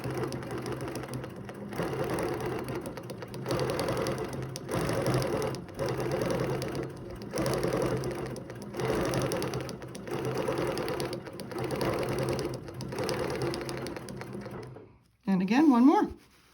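Quilting on a sewing machine, running an overall design across a quilt: rhythmic bursts of fast stitching with short pauses between passes, close and steady, ending with a brief sliding scrape.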